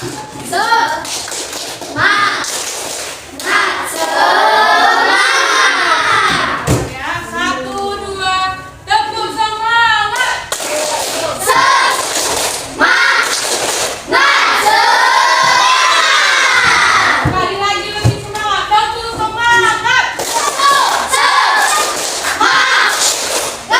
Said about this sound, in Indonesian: Tapi nggak nari lagi, tapi tepuk semangat.